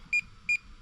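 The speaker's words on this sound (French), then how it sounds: "On appuie dessus et on appuie sur le bouton pendant 5 secondes. Ça bip" Two short electronic beeps sound from a DJI Air 2S drone controller after its button is held down, evenly spaced, clear and close against a quiet background.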